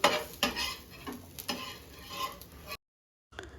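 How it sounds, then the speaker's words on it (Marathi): Moong dal dosa roasts on a hot pan with a steady close sizzle, punctuated by several sharp scraping clicks from a spatula, then a brief cut to silence before the sizzling resumes. "इथे छान भाजून घ्यायचं आणि टेस्टला खरंच खूप छान लागतो हे बघा छान भाजलेलं आहे"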